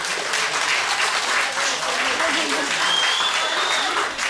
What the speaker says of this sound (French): Je crois qu'on peut applaudir les Fashion Girls.